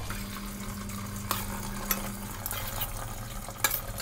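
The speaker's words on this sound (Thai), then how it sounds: "เปิดน้ำผ่านตักไข่มุกของเราลงไปได้เลย" Tap water runs steadily through a strainer holding cooked tapioca pearls over a bowl, a continuous close splashing wash with a few brief clinks.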